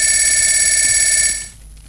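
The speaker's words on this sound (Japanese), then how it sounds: "電話がかかってきて" A telephone bell rings loudly and continuously in steady bright tones, then cuts off abruptly near the end, leaving a quiet room background.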